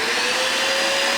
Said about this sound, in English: I have the vacuum on an automatic switch.